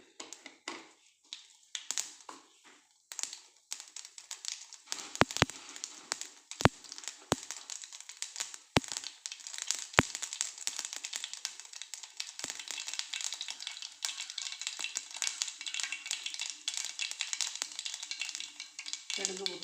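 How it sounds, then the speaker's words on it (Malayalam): Mustard seeds crackle and pop in hot coconut oil, a steady sizzle broken by sharp, separate snaps that cluster in the middle and ease off, heard close up with no talking. "കടുക് പൊട്ടി ഇടാം."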